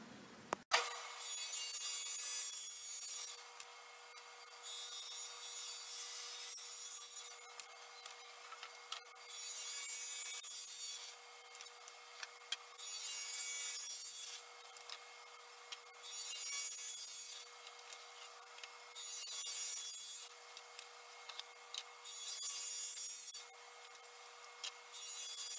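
Thin wooden strips being cut for hexagon pieces of a wooden soccer ball trophy, a steady machine cutting noise that swells and eases in repeated passes over roughly twenty-five seconds, fairly faint and with no voices.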